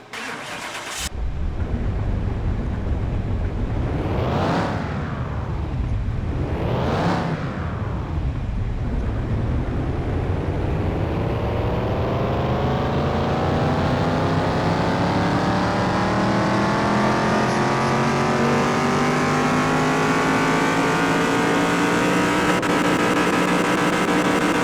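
A completed Chevy Super Nova engine starts and then revs on a dyno, with two sharp throttle blips followed by a long, loud, climbing pull that rises steadily in pitch.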